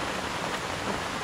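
Steady rain falls on a wooded campsite with a tuk-tuk, making a soft, even hiss of drops with no talking.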